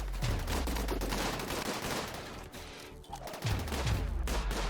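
EMP rifles fire at mechanoids in RimWorld, dense rapid bursts of overlapping shots forming a steady crackling barrage with occasional deeper thumps, loud and continuous throughout.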